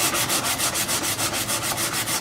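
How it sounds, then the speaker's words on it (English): Coarse sandpaper rasps over a wooden snow snake in quick, steady back-and-forth strokes, loud and close, about a dozen even passes with no voices. "I'm going to go over the entire Snowsnake with some fairly coarse sandpaper to smooth all the big"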